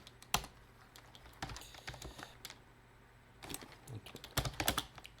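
Computer keyboard keys clatter in short irregular bursts as a cd command is typed, with quick clusters of clicks, a pause, then another flurry, close and moderately quiet with no talking.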